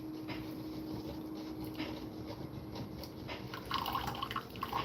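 Hot water pours into a mix of instant coffee for homemade dog treats, a soft trickle that swells louder toward the end, with no one speaking.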